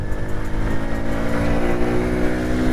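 A 1995 Honda C50 motorcycle's small engine drones steadily and close while being ridden, a continuous buzzing hum with wind rumble, no talk.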